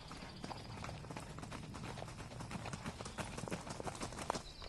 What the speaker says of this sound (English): Here, the group of 4 in the lead are beginning this climb.